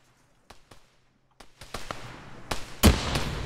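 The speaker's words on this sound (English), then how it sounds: "I just threw 2 grenades out there." Two thrown grenades go off in a video game battle, with sharp scattered blasts and pops building toward a loud explosion near the end, amid distant gunfire.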